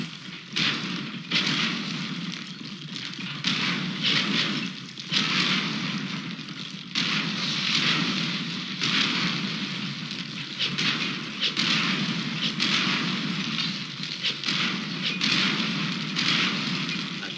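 Catapults in 0 A.D. firing on a tower, a series of heavy muffled thuds and crashing impacts spread across a noisy, crackling battle background with no clear gaps.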